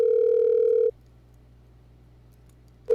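A steady telephone dial tone sounds loudly for almost a second, cuts to near silence, then returns briefly at the end as a phone call is being connected.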